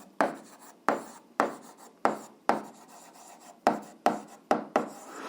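Pen or marker strokes on paper or a board while writing out a long row of thirty multipliers for an 8th-grade algebra exercise: repeated short scratchy bursts in an uneven rhythm, close and fairly quiet, with no talking.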